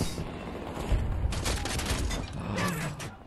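Bombs dropping and exploding in the multiplayer shooter Battlefield 2042, a dense spell of rumbling blasts and crackling gunfire rolling on for a few seconds at moderate distance, with no voices over it.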